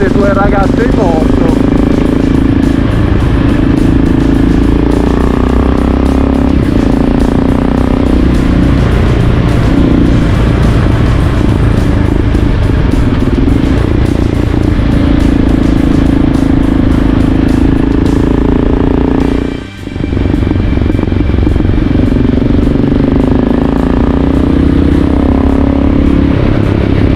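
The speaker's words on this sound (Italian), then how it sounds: "Finalmente due ragazze in moto." Motorcycles on a group ride through the Sardinian countryside near Bitti and Romanzesu, with a loud, continuous engine drone and wind rush throughout, the rider's voice talking over it, and one brief dip near the end.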